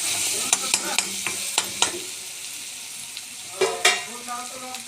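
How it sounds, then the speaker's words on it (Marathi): A spicy vegetable mix for a tomato curry is stirred and sautéed in a pan, giving a steady soft sizzle with a handful of sharp scrapes and clinks from the spoon, heard alone at close range. "तर हे असा मस्तपैकी परतून घ्यायचं याला"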